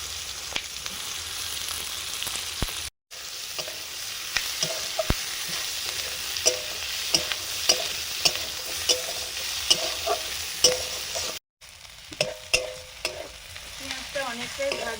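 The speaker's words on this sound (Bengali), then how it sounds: "পেঁয়াজটা অনেকটাই ভাজা হয়ে গেছে" Chopped onions frying in a pan with dried chilli paste: a steady, close sizzle with intermittent stirring scrapes and clinks, broken by two brief silent gaps.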